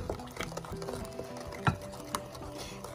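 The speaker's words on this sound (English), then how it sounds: "you can whisk all this together" Lemon bar ingredients, eggs among them, being whisked together in a bowl, giving soft, steady scraping and stirring with a couple of sharper clinks of the whisk against the side, close by and fairly quiet.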